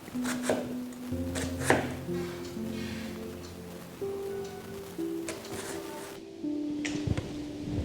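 A knife chops onions on a cutting board for a mango chicken dish, with irregular crisp taps and scraping strokes close by, while low tonal background sound hums underneath.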